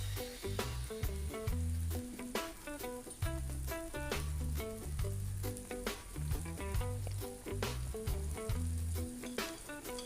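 Thinly sliced curry leaves, green chillies and onions crackle and sizzle in a hot pan for stuffed capsicum filling, a close, continuous fry broken by sharp spits and stirring knocks.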